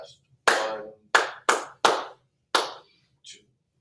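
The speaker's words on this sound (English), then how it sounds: "I can clap the rhythm." Hands clap a rhythm alone in a quiet room: six sharp, close claps in an uneven pattern, with the final one softer and more distant-sounding.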